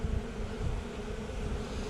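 Honey bees in an opened hive of a late-season split colony fill the air with a dense, continuous hum, close and loud, with no voices.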